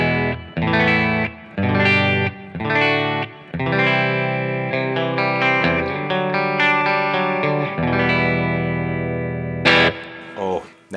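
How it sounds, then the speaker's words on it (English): Fender Telecaster fitted with J Mod signature pickups and String Joy strings, played clean through a Revv Generator 120 amp: ringing chords and single notes with sustained, neutral tone and some plucked attacks, played alone. "This is a Fender Telecaster with J Mod signature pickups and string joy strings."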